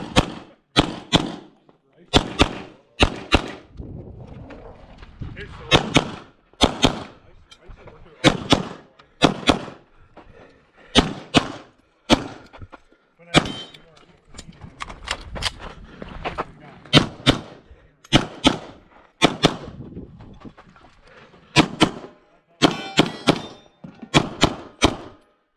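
Pistol shots ring out in quick pairs and strings on a Carry Optics stage at a shooting competition, loud sharp cracks repeating across the whole stretch with brief pauses between strings and faint voices in the gaps.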